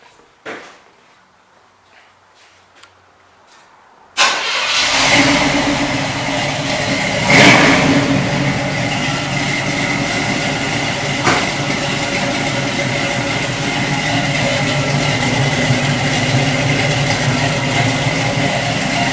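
A 1972 Chevrolet Nova's 350 small-block V8 with an L79 camshaft cranks and catches at once into a loud, deep rumble, revving briefly before settling into a steady, throaty idle close by.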